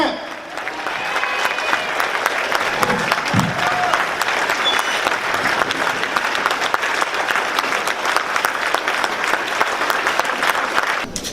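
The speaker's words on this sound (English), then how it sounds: "Y'all better make some noise for Ms. Rashida Ali" An audience at an awards dinner gala bursts into sustained applause and cheering, a dense, loud wash of clapping that carries on steadily with no break, with some voices mixed into the crowd noise.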